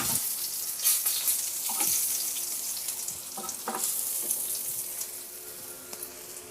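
Milkfish (bangus) fries in hot oil in a pan, a steady close sizzle with scattered pops and a few clinks of the pan or utensil throughout.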